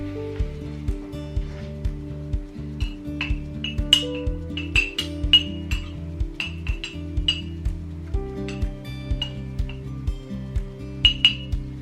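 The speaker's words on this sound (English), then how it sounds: "you want to spoon that over the mixture" Spoon tapping and scraping a mug while tomato sauce is spooned over a mug pizza mixture, with repeated bright ceramic clinks over a steady low musical backing, no speech.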